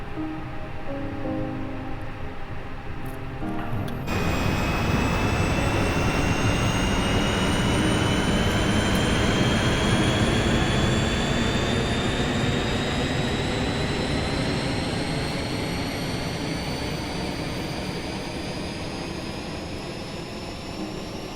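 Auxiliary power unit of an airliner spooling up in a flight simulator game, beginning with cockpit hum, then a loud broadband roar and rising whine that climb in pitch and hold steady for about twenty seconds.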